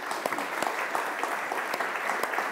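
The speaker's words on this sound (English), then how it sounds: "maybe we should give her a little applause to help." Audience applause after a public policy forum talk, a steady wash of clapping at moderate level with a few sharper individual claps standing out, no talk over it.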